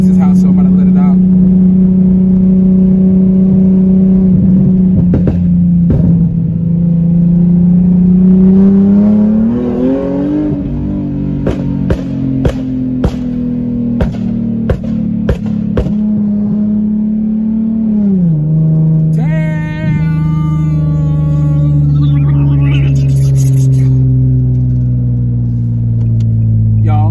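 Nissan 370Z with a custom single-exit exhaust and resonator delete, revving loud and close with rising and falling deep exhaust tones, a person talking over it throughout.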